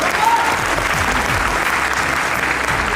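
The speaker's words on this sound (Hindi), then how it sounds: "मैं चाहूंगा एक जोरदार ताली जरूर बजा सकते।" An audience at an AWPL business event breaks into loud, continuous applause, a thick, uniform roar of many people clapping that stays steady from start to finish.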